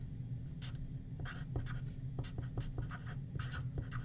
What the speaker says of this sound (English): I'm gonna press hard, get everything I can out of this one